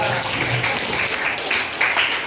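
A class or student group claps for the top-ranked student in an Indonesian teacher-training session, a brief steady patter of clapping with some faint background voices.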